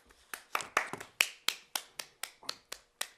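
Sparse hand claps at a speakers' meeting, about a dozen sharp, evenly spaced claps from one or a few people rather than a full crowd, fairly close and clear with no talk.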